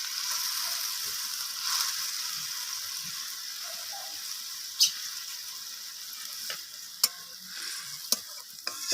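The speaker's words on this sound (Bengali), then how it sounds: "তো এবার আমি ডিমগুলোকে গ্রেভির মধ্যে দিয়ে দিলাম একে একে" Eggs simmer in a spiced gravy with a steady, quiet bubbling hiss, close up, broken by a few sharp clicks and taps of a spoon against the pot.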